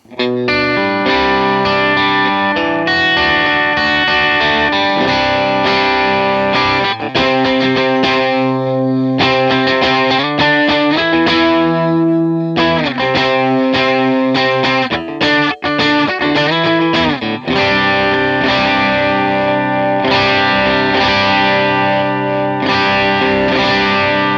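Distorted electric guitar through a Vox AC30-style amp model on a POD Go plays continuous chords and riffs, loud and processed with chorus-like effects, played once without EQ and once with EQ including a 3.7 kHz cut.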